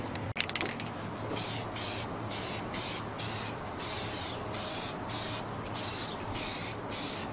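Continuous hiss of an aerosol spray can coating an RC dually truck body, steady bursts with brief pauses between passes, close and fairly loud with no talking.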